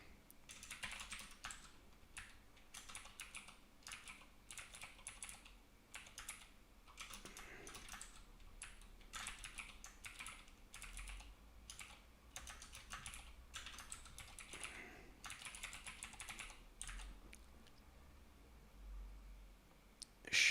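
Steady typing on a computer keyboard while writing code, with rapid key clicks in bursts and brief pauses, close but fairly soft.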